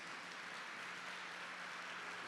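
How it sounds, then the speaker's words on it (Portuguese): Dense clapping from a church congregation during Mass fills the whole moment, a steady broad patter of applause without speech. "Aplauda a palavra de Deus"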